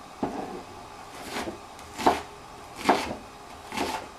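A knife chops mushrooms roughly on a cutting board in four or five separate, fairly soft strokes with short pauses between them, no speech.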